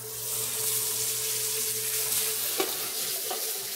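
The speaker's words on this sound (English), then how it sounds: "I've got my pan nice and smoking hot so I can get a good sear on my fish" Grouper fillet searing in a smoking-hot pan, a steady close sizzle with a low hum underneath, broken near the end by a sharp clatter and a lighter knock as the pan is jostled.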